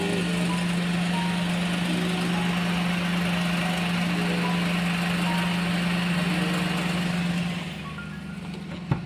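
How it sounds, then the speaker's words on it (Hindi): A Maruti Alto 800 engine idles steadily with a strong low hum and a buzzing, vibrating silencer, holding a constant drone before easing off near the end with a faint knock. "देखो इस साइलेंसर से, देखो ये साइलेंसर वाइब्रेट कर रहा है।"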